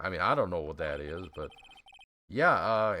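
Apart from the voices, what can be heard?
No everyday noises stand out.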